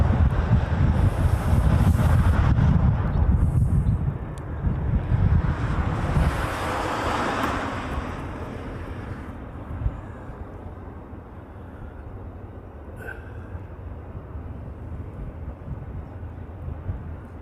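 Delta airliner arriving from LAX on approach over the coast in Hawaii, a broad roar loudest at the start and fading steadily away, mixed with heavy wind buffeting on the microphone and possible surf behind it.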